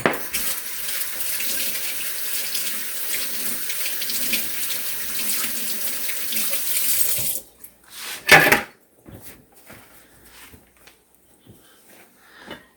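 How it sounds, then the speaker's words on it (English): Hands are washed under a running kitchen tap, a steady close rush of water lasting about seven seconds, then the flow stops and faint clinks and handling noises follow, with no talking. "I had to wash that off my hands."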